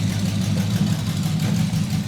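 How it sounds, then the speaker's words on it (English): Packard custom engine fitted with exotic carburetors idling, a loud, close, steady low rumble with an even smooth burble and no talking over it. "It lays right down to idle and just purrs smooth."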